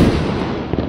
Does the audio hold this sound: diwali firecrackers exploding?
yes